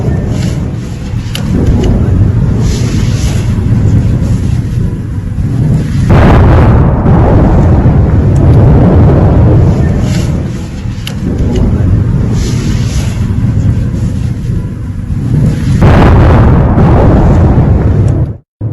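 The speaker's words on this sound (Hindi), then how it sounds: "सेना ने गुफा को उड़ा दिया और आतंकी ढेर हो गए।" The army blows up a cave where militants were hiding. A heavy, sustained explosive roar and rumble runs loud and near, swelling again mid-clip and near the end.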